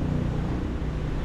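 A vehicle engine idling unattended, with nobody at the wheel: a steady, low, even rumble holding at a constant level throughout, with no revving.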